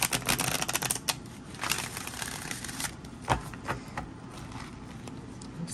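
Tarot cards sticking together in the heat being shuffled: rapid, close crackling flicks in quick bursts for the first few seconds, then sparser slaps and taps, with no voices.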